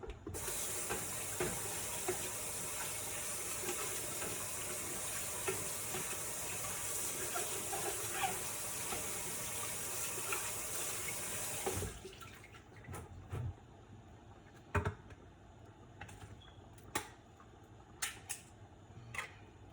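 A kitchen tap runs steadily while vegetables are washed for a beetroot salad, a dense continuous water noise that stops abruptly partway through, leaving quieter scattered clatters and handling sounds.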